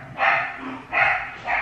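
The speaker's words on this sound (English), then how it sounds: "Yeah, my dogs, ignore them please. Very annoying." Pet dogs bark indoors, three loud, close barks spaced roughly evenly over under two seconds, with no talking over them.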